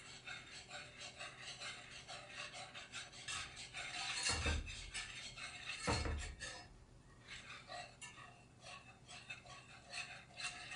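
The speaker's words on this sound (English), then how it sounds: "start whisking it into our roux." A whisk scrapes and rubs steadily around a pan as sourdough discard and cold milk are worked into a roux, with a continuous soft scratching texture and two brief louder knocks against the pan partway through.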